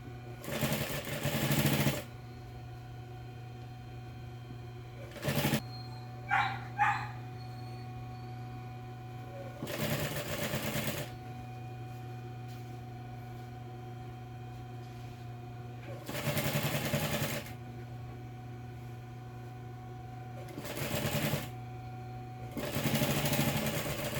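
A sewing machine stitches a seam on a multipurpose fabric pencil case, running in several separate bursts of a few seconds each with steady hum between.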